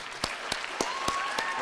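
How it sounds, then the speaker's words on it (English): Sparse applause for Justin Shea, Chris Ferreira and Case Works at a school show, a few sharp individual claps standing out over a thin wash of clapping, with no talk. "To Justin Shea and to Chris Ferreira and Case Works, let's give them a round of applause."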